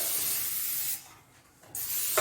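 Two bursts of cooking spray hiss onto a baking pan for cornbread dressing, the first about a second long, then a brief pause before the second burst starts.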